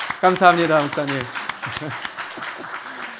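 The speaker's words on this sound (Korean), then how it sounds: "우리 박수로 환영하겠습니다" A church congregation gives scattered applause to welcome a visiting pastor during a Sunday morning service, light sparse claps continuing under and after a man's spoken words of thanks.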